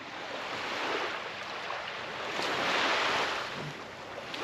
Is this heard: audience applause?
no